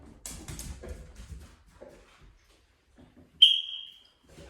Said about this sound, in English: The sound of the whistle says to him, come running towards the noise.